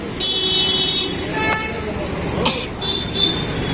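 A vehicle on a town road in Jalgaon sounds its horn in a couple of short toots over traffic rumble, with a voice speaking nearby.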